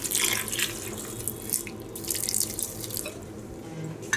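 Water splashes and trickles into a pressure cooker in a few uneven bursts, close by and fairly soft.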